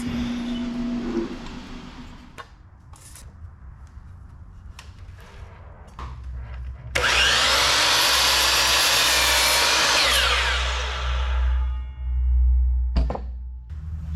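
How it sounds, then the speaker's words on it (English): A 60-inch length of PVC pipe is cut with a saw, a loud steady rasping drone lasting several seconds after a few sharp knocks and quieter handling noise. "So right here we're going ahead and cutting our 60-inch piece for the middle, for the main piece."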